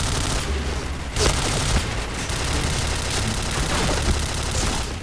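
Dense, continuous gunfire in the Thai-server shooter game Point Blank, with rapid bursts and overlapping shots, plus occasional heavier booms, steady and loud throughout.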